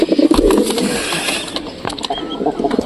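Domestic pigeons kept as pets cooing close by, low rolling coos mixed with rattling mechanical clicks and scuffs, loudest at the start, with no talk.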